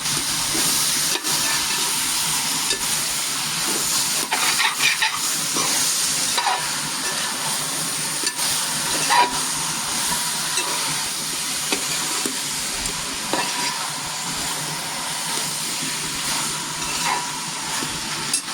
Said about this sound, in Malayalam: കോഴിയിലേക്ക് നമ്മൾ മഞ്ഞപ്പൊടിയും കുരുമുളകും ഉപ്പുമാണ് നേരത്തെ പുരട്ടി വെച്ചിരുന്നത് അപ്പം അതും കൂടി ഇട്ട് നല്ല പോലെ അങ്ങ് ഇളക്കാം